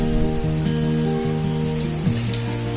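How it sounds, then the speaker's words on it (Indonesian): Steady rain falls during an enduro trail ride at Akasia, a continuous hiss with a low humming drone running beneath it throughout. "Oke, hujan ya."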